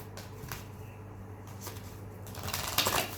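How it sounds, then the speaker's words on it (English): Shuffling a Moonology oracle card deck: soft papery riffles and slides of cards, several brief bursts spread across a few seconds, close and fairly quiet, with a louder flurry near the end and no talk. "I'm just going to shuffle the Moonology deck for some parting messages"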